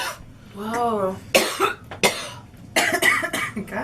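Hard, forceful coughing from a girl, several harsh bursts in a row with short gaps, close and loud, followed by an exclamation-like voiced sound between coughs.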